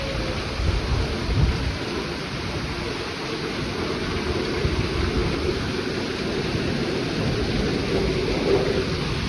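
Heavy rain pours steadily on a rural property with low rumbling thunder underneath, a dense, loud wash of sound that never lets up.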